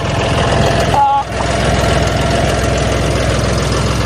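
A tractor engine runs steadily and loudly up close for the whole stretch, a rough, continuous mechanical rumble that dips briefly for a moment near the start before settling back to the same even drone.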